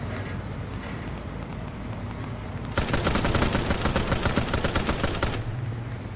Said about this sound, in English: Someone's shooting at Debbie.